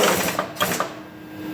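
A power drawbar on a Trak DPM-5 CNC vertical mill actuates in a quick burst of pneumatic rattling and clacking lasting about a second, then settles into a faint machine hum.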